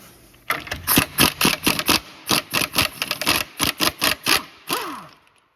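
An impact gun tightens a sway bar link nut on a 2007-2014 Ford Edge, loud and close, with a rapid train of about twenty hammering rattles in short bursts before it stops.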